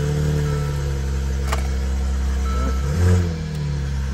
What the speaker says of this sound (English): Exhaust has a nice note to it.